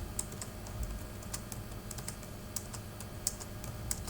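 Someone types steadily on a computer keyboard while working in MS Word, the key clicks close and fairly quiet over a low background hum, with no talking.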